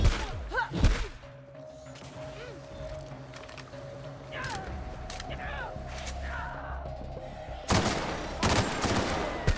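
Gunfire in The Outer Worlds, Peril on Gorgon expansion: loud sharp shots near the start and a dense burst toward the end over a steady game ambience, with a voice talking in between.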